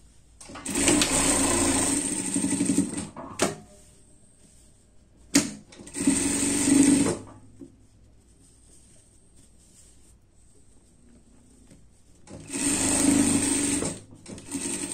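A sewing machine runs a security seam on an Easter dress. It hums steadily in three separate runs, with quiet pauses between them, and is heard close and alone.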